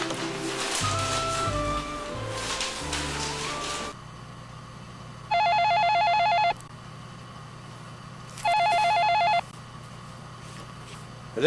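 A landline telephone rings twice during an outgoing call, two clear electronic ring bursts, each about a second long, separated by a quiet pause after some background music fades.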